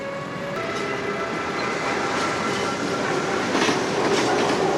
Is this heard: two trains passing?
yes